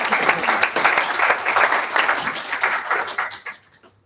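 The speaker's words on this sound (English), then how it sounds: "Round of applause for those great people." A crowd at an ESN Bulgaria national assembly event in Varna gives a brisk round of applause, dense and lively for about three seconds before quickly dying away.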